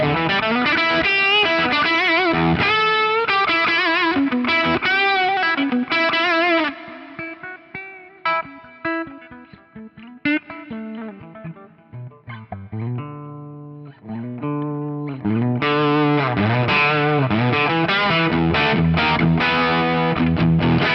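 An electric guitar at the edge of breakup, run through an input expander, plays strummed chords and single notes, full and crunchy at first, then sparse and choppy, then thick again.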